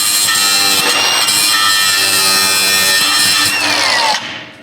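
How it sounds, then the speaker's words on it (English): Power grinder taking the tops off welds on steel patch panels for a Ford Model A sedan, a loud, close, continuous high whine that holds steady for about four seconds, then cuts off and winds down. "you might have to grind the tops of these welds off"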